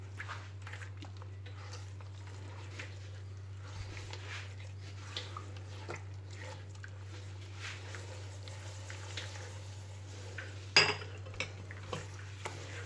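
Butter, sugar and oil mixed in a bowl, a spoon scraping and clicking softly and irregularly against the sides, quiet and close over a low steady hum, with one louder clatter near the end.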